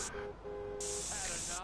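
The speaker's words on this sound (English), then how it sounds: "Spray a gang member in the face." Aerosol spray can firing at a gang member in GTA San Andreas: two loud, steady hissing bursts, a short one then a longer sustained one, with game tones and voices underneath.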